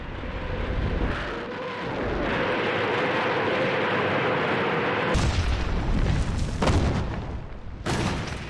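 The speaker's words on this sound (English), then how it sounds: "the Soviets obliterate the enemy's lines, pounding them with the rocket launchers they call Stalin's organs" Soviet Katyusha rocket launchers bombard enemy lines in a World War II barrage, a loud, continuous rumbling roar of salvos with sharper blasts bursting through near the end.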